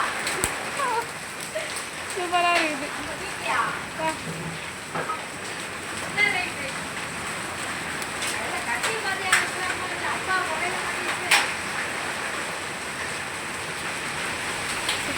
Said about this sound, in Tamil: ரோடு ஃபுல்லாக பாருங்களேன் எவ்வளோ ஆலங்கட்டி செம்மையாக இருக்குது.